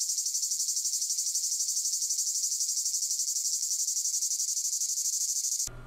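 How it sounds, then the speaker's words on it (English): Cicadas sing in a steady, loud, high-pitched buzzing drone that pulses rapidly and evenly, continuing without a break until it cuts off abruptly at the end. "Of course, we're talking about these things, cicadas."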